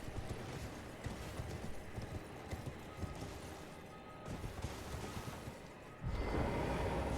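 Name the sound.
horse hooves in a video game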